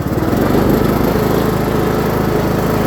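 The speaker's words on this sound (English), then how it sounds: "Not bad for a free lawnmower" A Craftsman LT2000 riding lawn mower engine runs loud and steady nearby, a constant droning roar with no letup and no talking.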